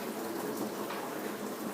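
Beaten eggs poured into a casserole dish over bacon for a breakfast casserole, a soft, steady liquid rush that stays faint and continuous throughout with no talking.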